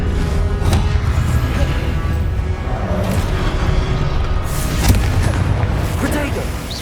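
Fire spells burst in heavy succession during combat in Hogwarts Legacy, a dense, loud, rumbling barrage of booms with sharper blasts standing out, under constant game noise and voices.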